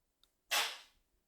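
A sudden sneeze from someone in a quiet room, one sharp breathy burst that swells fast and trails off over about half a second, fairly close and not covered by any talk.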